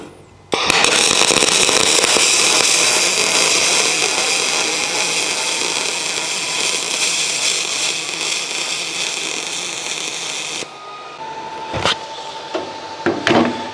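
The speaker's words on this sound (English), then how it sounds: "I just welded the top piece there, and that went pretty well" Welding the top piece of an aluminum horse trailer gate, a loud steady crackling hiss that runs unbroken for about ten seconds, then stops, leaving a few faint clanks and a short tone.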